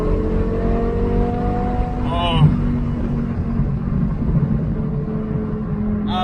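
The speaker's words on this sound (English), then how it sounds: "That thing you hear behind me is not the stock exhaust that comes with this M6. It is actually the Eisenman race exhaust." A BMW M6 fitted with an Eisenmann race exhaust rumbles steadily close by, with a brief rev rising partway through, under someone talking over it.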